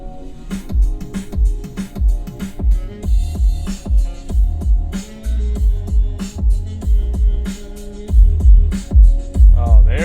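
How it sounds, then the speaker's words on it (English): Bass-heavy music plays loud through a 2023 BMW X7's Bowers & Wilkins Diamond surround sound system, bass turned fully up, with deep booming low end pulsing steadily throughout. "for this next one, we're going to turn the bass all the way up"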